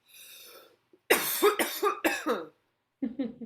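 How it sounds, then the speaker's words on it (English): Several coughs in quick succession, loud and close, with a brief pause before a final softer cough. "I just had to cough"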